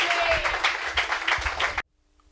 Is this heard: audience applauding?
yes